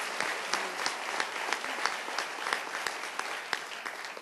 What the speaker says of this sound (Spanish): Nos le damos un aplauso al Señor por la hermana que no se achicopala.